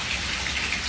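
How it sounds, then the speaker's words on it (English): Steady rain falls on a porch in the morning, a dense even hiss of water with no voices, close and continuous. "I'm listening to the rain."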